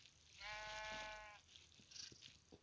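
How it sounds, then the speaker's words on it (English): A baby sheep in Minecraft lets out one clear, wavering bleat lasting about a second, close and distinct, followed by faint soft clicks and shuffling. "Yep, baby sheep."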